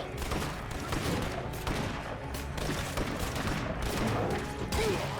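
Gunfire in the zombie survival game State of Decay 2: dense, continuous volleys of rapid shots at moderate loudness, a constant crackling barrage with no pause and no talking.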